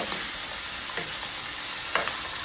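Green beans stir-frying with pork belly in a hot pan, a steady loud sizzle with a few scraping stirs of the utensil breaking through at intervals.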